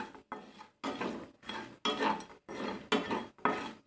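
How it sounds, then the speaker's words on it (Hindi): A spoon or spatula stirs flour, sugar and red chili powder in a pan over low flame, giving repeated scraping strokes about twice a second, soft and close, with no voices. "शक्कर का आटा और रेड चिली पाउडर डालकर इसे अच्छे से मिला लेंगे"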